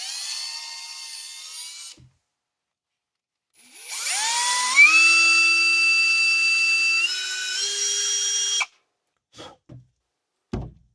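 A hand drill whines up to speed and holds a high, steady pitch for several seconds, shifting slightly as it bites into a crankbait fishing lure at a slight angle, then stops; a few faint clicks follow.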